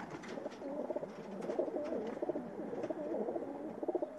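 Pigeons coo softly and continuously, low throaty warbling calls overlapping at close range with faint background rustle.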